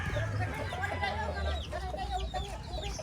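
Chickens clucking in a yard behind a house, several birds close by with overlapping chirpy clucks and calls continuing steadily throughout.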